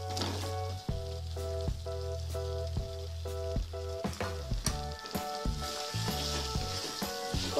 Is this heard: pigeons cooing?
no